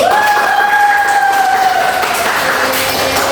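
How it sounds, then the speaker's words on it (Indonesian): A class of students applauds in an Indonesian classroom, giving dense, steady clapping with crowd noise throughout and a sustained voice-like tone standing out over the first half. "Tepuk tangan untuk kita semua."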